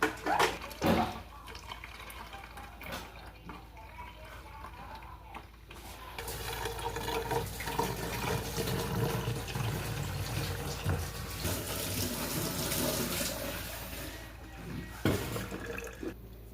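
Homemade juice strained and poured into a bottle, heard as a steady, close liquid pour and trickle running for several seconds, with a few knocks at the start and near the end.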